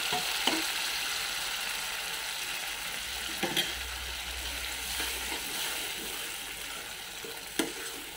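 Dal being stirred into a sautéed tempering in a pan with asafoetida, a steady sizzle running throughout with a few soft scraping stirs and clicks of a utensil.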